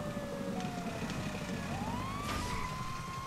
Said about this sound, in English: This siren is broke as hell.